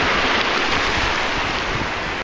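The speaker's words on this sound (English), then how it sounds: "But the waves are still here." Ocean waves wash steadily over a bay at low tide in a continuous, close, full roar of surf with some wind rumble against the microphone and no voices.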